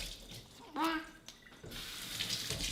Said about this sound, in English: we're just gonna make sure everything's rinsed.